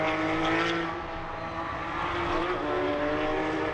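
Porsche Carrera Cup race cars at the Barcelona circuit give a steady, loud engine drone as they brake at the end of the straight, with layered engine tones from more than one car.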